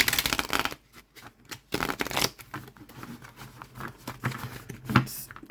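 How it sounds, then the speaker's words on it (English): A deck of slightly thick, linen-finish tarot cards being shuffled, several bursts of riffling and rustling close up, separated by short pauses and ending in a firmer flurry. "let's have a quick look at the shuffle here"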